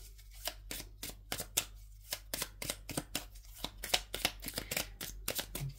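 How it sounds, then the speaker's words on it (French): Tarot cards are shuffled and drawn by hand in a quiet room, giving a quick run of soft, crisp riffling snaps in an uneven rhythm, close and faint, with no talk. "Je vais prendre 3 cartes. Oh, bah, y en a 4 qui sont sorties."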